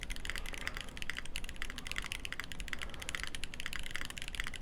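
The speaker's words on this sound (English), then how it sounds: "this dude is just flying through the keys right now. Typing super fast." An expensive mechanical computer keyboard is typed on very quickly, giving a dense, continuous stream of crisp key clicks at a steady, rapid pace, quiet and close, with no talking.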